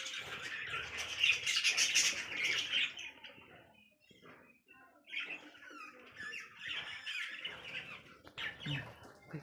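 Pet lovebirds and their chicks in a clay pot nest squawk and chirp in loud, dense bursts, pausing briefly midway before a second round of shrill calls.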